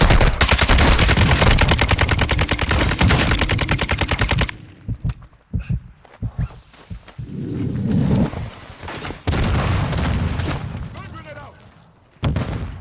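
Rapid automatic gunfire rattles loudly in a shooting video game, followed by scattered single shots and bursts, with players talking excitedly over the action.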